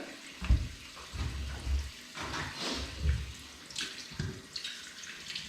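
Tap water runs into a sink while a sea bream is rinsed under it, a steady close splashing stream with uneven surges as the fish is handled, and no one speaks.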